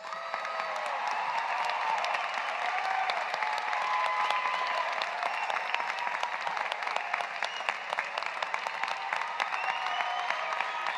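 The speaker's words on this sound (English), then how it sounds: "please join me as we honor all these graduates with a well-deserved round of applause" Sustained applause from a large crowd honoring graduates at a commencement ceremony, steady and dense clapping throughout with no pauses.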